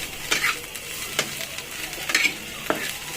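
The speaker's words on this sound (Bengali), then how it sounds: "একটু নাড়াচাড়া করবেন যাতে পুড়ে না যায়। সুন্দর করে নাড়াচাড়া করে ভেজে নিয়ে" Small shrimp frying in a pan while being stirred, a soft constant sizzle broken by a few sharp scrapes and clinks of the spatula against the metal.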